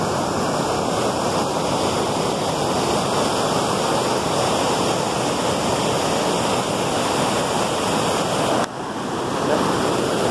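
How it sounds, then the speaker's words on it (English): A waterfall roars steadily and loudly up close, a dense continuous rush of falling water with no talk over it, dipping briefly near the end. "That's a waterfall."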